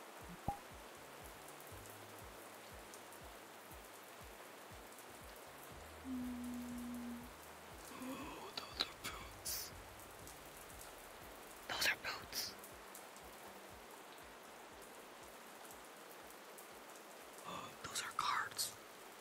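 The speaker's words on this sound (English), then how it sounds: "The rain coming down all over the place." Steady rain falls all over, drumming on surfaces as a continuous ambient wash, with soft whispered voices and a few brief knocks surfacing over it now and then.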